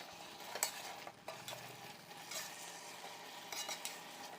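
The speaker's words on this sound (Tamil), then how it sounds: "வெங்காயம், தக்காளியோட இந்த காயும் நல்லா வதங்கட்டும்." Onions, tomatoes, vegetables and ginger garlic paste for vegetable biryani sauté in a pan as a spoon stirs them, scraping and tapping gently over a soft, steady sizzle, with no talking.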